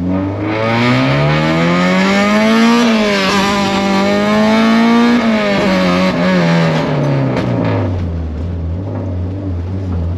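A K-swapped Honda Civic EG accelerating hard, its engine note climbing through the revs, dipping at a shift and climbing again before easing off, loud and close with no talk over it.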